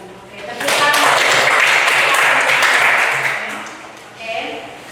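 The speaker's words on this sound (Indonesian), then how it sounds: "tepuk tangan" Audience applause in a classroom after a group presentation, a broad wash of clapping that swells for about three seconds, fades, then briefly returns near the end, with some voices mixed in.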